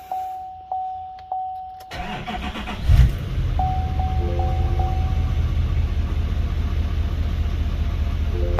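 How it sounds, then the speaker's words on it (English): A truck engine cranks over with several chime-like beeps and clicks, then catches and settles into a steady, close idle that runs smoothly and evenly to the end. "I think she idles a lot smoother."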